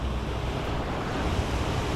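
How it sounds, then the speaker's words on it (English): A rushing waterfall at a Minnesota camping and fishing spot, a dense steady roar of falling water with no breaks, loud and close throughout. "Right over there, it's a waterfall, a very dangerous waterfall."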